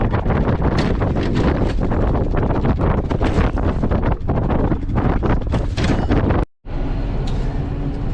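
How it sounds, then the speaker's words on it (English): Strong wind buffets the microphone outdoors on a farm in spring, a loud continuous roar with gusty surges, a brief dropout near the end, no talking. "it is very windy outside."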